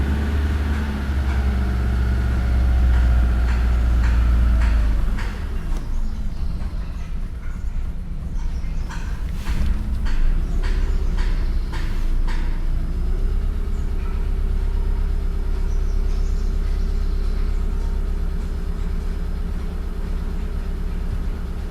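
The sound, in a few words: Mitsubishi GDI car engine running while accelerating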